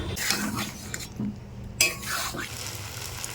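Boiled lentils stir-fried in a pan with drumstick, potato and tomato, giving a steady close sizzle with scraping and stirring clatter and a brief pause midway.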